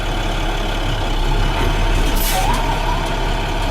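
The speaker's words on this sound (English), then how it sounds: "I'm gonna release my clutch and I'm gonna let it roll for 4 feet and I'm gonna apply my service brake." Heavy truck with air brakes rolling a few feet before the service brake is applied, its engine running steadily throughout, with a brief hiss and squeal of the brakes midway.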